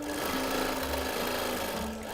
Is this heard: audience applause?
no